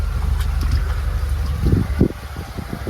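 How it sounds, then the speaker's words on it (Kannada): Air rushes and buffets noisily through a gem mine shaft in Sri Lanka, with low rumbling gusts that surge and thump toward the end. "ಇಲ್ಲಿ ಗಾಳಿ ಬರ್ತಾ ಇದೆ"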